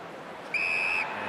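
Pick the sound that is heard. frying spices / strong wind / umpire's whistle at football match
umpire's whistle at football match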